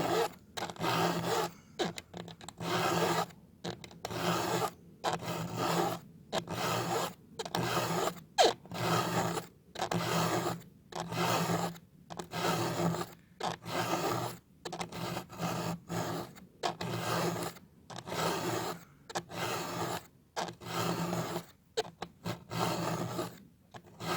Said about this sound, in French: je vais l'affûter à la lime Goofy pour assister à la transformation de l'angle du